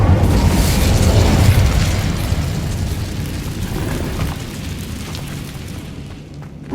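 The Incendio fire spell cast in the video game Hogwarts Legacy, a loud sustained fiery whoosh and roar with rumbling bursts that slowly fade over several seconds, heard alone without talk.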